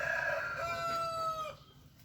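A jungle fowl rooster crows once, loud and close, the call holding steady and then cutting off abruptly into quiet with no voices.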